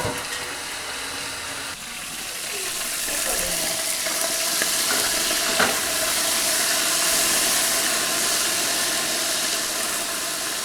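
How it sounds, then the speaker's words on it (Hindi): Steady hissing sizzle of cumin seeds frying in hot oil with a splash of water, close up, with a faint stirring clink partway through. "ज़ीरे का तड़का हमने लगा लिया।"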